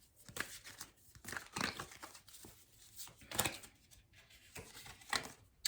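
Papery crinkling and shuffling of oracle cards, a steady flurry of soft rustles and flicks close up.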